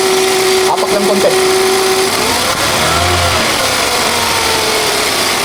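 The engine of a 2012 Hyundai Accent, which has a check-engine light and responds poorly to the throttle, idles close by and then rises in a brief rev as the accelerator is pressed. A voice talks over it.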